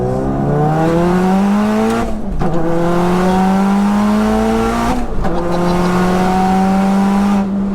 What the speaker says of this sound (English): You've actually been flat shifting the whole time.